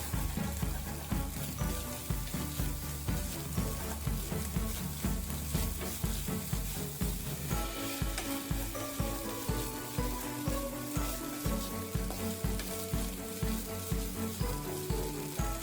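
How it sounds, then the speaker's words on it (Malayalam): Eggs seasoned with pepper, soy sauce and salt sizzle steadily in a hot pan while cooking for egg fried rice, a dense, continuous frying hiss that holds from start to finish. "നമുക്ക് മുട്ടയും കൂടി വെച്ചിട്ട് നല്ലോണം അതൊന്ന് മിക്സ് ചെയ്ത് മുട്ട നമുക്ക് നല്ലോണം ഒന്ന് വേവിച്ചെടുക്കാം"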